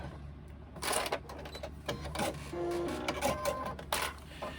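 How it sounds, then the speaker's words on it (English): A sewing machine stitches a 3/8-inch seam across the bottom of a fabric pocket pouch, close, uneven mechanical whirring in stops and starts with brief pauses for pivoting and locking off. "Doing our 3/8 inch down to the bottom, pivot, and along at 3/8 of an inch across the bottom there until we meet that next, and we lock it off."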